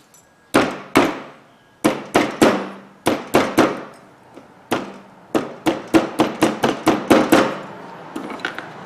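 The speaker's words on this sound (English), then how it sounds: "just tap the fingers back down on it" A hammer taps the metal retaining fingers back down on a Dodge Ram 2500/3500 front wheel bearing part, sharp ringing metallic strikes in irregular bursts, then a rapid run of quicker blows, close and loud with no talking.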